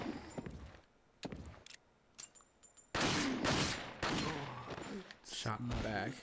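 Gunfire in the zombie video game Resident Evil 4: a few sharp shots, then a dense burst of loud blasts and explosions, mixed with game noise and a voice speaking over it.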